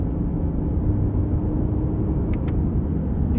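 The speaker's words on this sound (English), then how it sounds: "You can definitely hear the typical Subaru rumble when you get on it." A Subaru Outback's engine rumbles under acceleration, a steady, low, throaty drone heard from inside the car with no talking.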